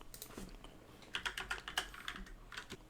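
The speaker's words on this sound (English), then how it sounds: "Let's type this in." A code is typed on a computer keyboard, a quick run of close, crisp key clicks in an uneven rhythm, fairly quiet, with no talking.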